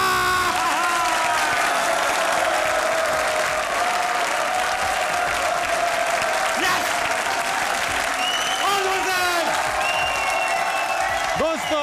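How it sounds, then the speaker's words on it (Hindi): Studio audience breaks into sustained applause with whoops and cheering, a dense, steady wall of clapping from a crowd at a Pakistani TV comedy show taping, lasting throughout with scattered shouts rising above it. "तालियां!"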